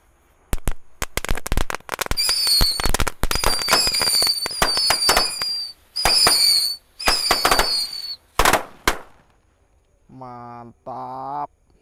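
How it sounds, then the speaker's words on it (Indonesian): Two packs of mercon tikus firecrackers linked by a fuse burst in rapid, crackling runs of loud bangs and whistling squeals, broken by short pauses. A voice speaks near the end. "Selanjutnya di sini ada 2 pak mercon tikusantor guys. Ini kita pasang dengan sumbu agar bisa menyala semuanya."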